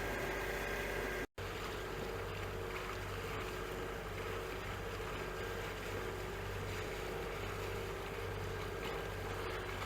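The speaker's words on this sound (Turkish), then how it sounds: "Gayet sakin bir motor seyri." Steady low engine drone with wind and water noise, a sailboat motoring under engine continuously along the coast near Datça, with a brief dropout near the start.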